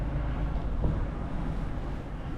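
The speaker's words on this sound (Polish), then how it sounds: "Takie porywy wiatru się zrobiły północnego." Gusty northerly wind buffets a microphone outdoors, a steady low roar with slight surges, close and fairly loud with no voices.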